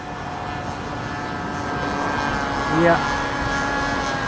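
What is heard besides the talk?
60 size Reactor RC model biplane engine flying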